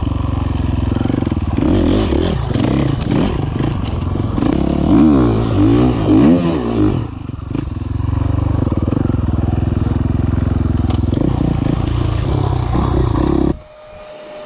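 A loud motorcycle engine revs and accelerates continuously close by, its pitch rising and falling through repeated throttle bursts in a two-stroke versus four-stroke comparison, then cutting off abruptly near the end.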